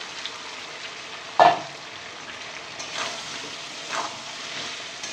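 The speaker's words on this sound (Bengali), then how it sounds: "কষানো হয়ে গেছে, দেখুন তেল ছেড়ে দিয়েছে। এবারে ভেজে রাখা পটল দিয়ে দেব।" Fried pointed gourd goes into hot oil for prawn curry, giving a soft continuous sizzle close by, with one sharp clatter as the pieces drop in and a few faint stirring scrapes after.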